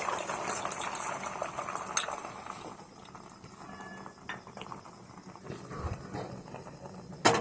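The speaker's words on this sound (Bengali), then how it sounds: "রিফাইন তেল দিয়ে আমি ডিমের গোলাটাকে আমি এর মধ্যে দিয়ে দেবো" Beaten egg mixture poured into refined oil in a wok, a close hissing sizzle with bubbling and a few clinks of utensils, steady throughout and heard alone without talk.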